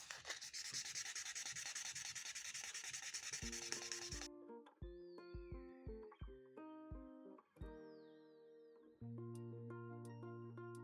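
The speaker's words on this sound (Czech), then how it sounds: "tu zvlhčenou hranu teďka jemným šmrglovým papírem" Fine sandpaper rubs a dampened leather edge in quick, steady back-and-forth strokes, close and fairly loud, before the sanding stops and gentle melodic music continues alone.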